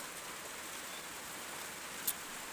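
Early-morning rain falls on a farm garden of taro and cassava as a soft, even, faint hiss, with one tiny sharp tick near the end.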